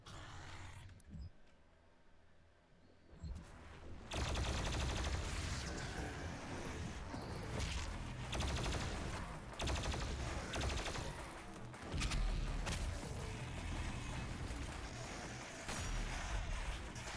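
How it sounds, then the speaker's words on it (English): A plasma rifle in the video game Doom Eternal fires in long, dense rapid bursts mixed with loud combat noise, starting after a few seconds of quieter game sound. "Hello, plasma rifle."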